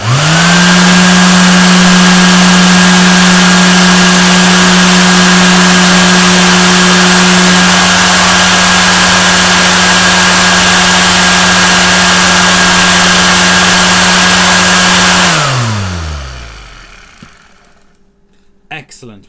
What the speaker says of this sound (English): We know that the motor is now working and sounding so much better than what it did before.